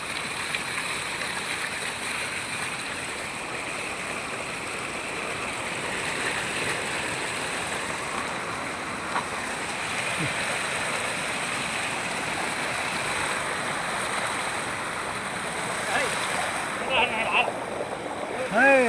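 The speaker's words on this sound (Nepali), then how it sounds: "ल पानी यता बगेछ" Stream water flows and splashes steadily where it is being diverted to dry out a channel for fishing in Baglung, a continuous broadband rush filling the whole stretch, with faint voices underneath.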